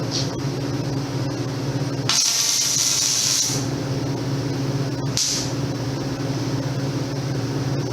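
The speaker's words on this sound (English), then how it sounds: "And now I can take my welder, tack weld the other corner, not fully welding it, just tack welding it" Short bursts of a welder tacking a corner of thin metal in a forge workshop, two bright crackling hisses of about a second each over a steady humming background.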